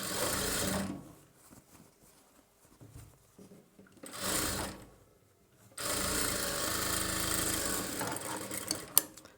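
An electric sewing machine stitches a boat neck blouse, running in steady close whirring bursts separated by brief pauses, with a final short run and a click at the end.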